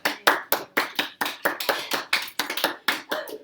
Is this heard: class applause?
yes